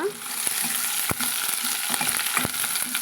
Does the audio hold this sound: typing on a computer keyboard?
no